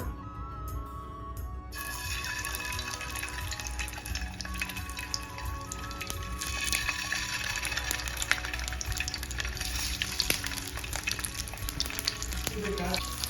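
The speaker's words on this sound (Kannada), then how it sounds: "ಎಗ್ ಸ್ಲೈಸ್ನ ಇದಕ್ಕೆ ಆ್ಯಡ್ ಮಾಡ್ಕೊಂಡು ಸ್ವಲ್ಪ ಫ್ರೈ ಮಾಡ್ಕೊಳ್ಳೋಣ" Egg slices fry in hot ghee in a pan, giving a dense, continuous close sizzle with occasional spatula scrapes and crackles, steady throughout with no talk.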